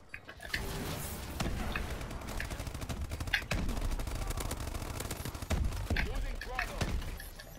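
Rapid gunfire in the Call of Duty: Advanced Warfare video game, dense bursts of shots layered with game effects and someone talking over them.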